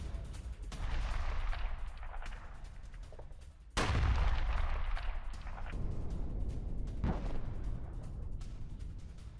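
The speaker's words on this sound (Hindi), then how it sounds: "लेबनान में आईडीएफ की आर्टिलरी से गोलीबारी।" IDF artillery fire in southern Lebanon thunders in heavy booms, one sharp loud blast near the middle and another later, rolling and echoing over a continuous low rumble at a distance, with no talk heard.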